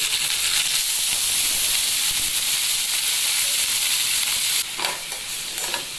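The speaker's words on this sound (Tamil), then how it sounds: "கருவேப்பிலை, பச்சை மிளகாய், தக்காளியும் சேர்த்து நல்லா வதக்கிக்கோங்க." Curry leaves, green chilies and tomato sauté in hot oil with mustard seeds, giving a loud, steady sizzle that drops lower near the end as the pan is stirred, with scraping sounds and no talking.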